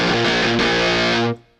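A heavily distorted electric guitar rings out in thick, buzzing chords, loud and close, then cuts off sharply and decays into near silence.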